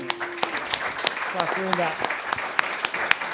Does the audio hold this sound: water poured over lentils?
no